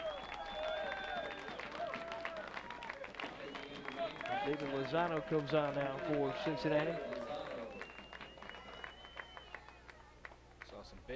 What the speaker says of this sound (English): Saw some big cheers from the crowd there.